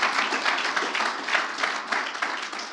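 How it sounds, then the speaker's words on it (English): An audience at a startup pitch night applauds investors, a dense, sustained round of clapping from many hands filling a hall, steady throughout without letting up. "let's have a round of applause for our investors"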